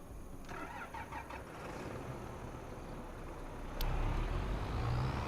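A tractor engine in the farming video game Farming Simulator 25 runs with a steady, droning hum, then grows louder and heavier near the end as it revs. There is no talking.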